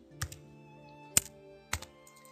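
Typing on a computer keyboard: three sharp, separate key clacks spaced about half a second apart, close and fairly quiet against near silence.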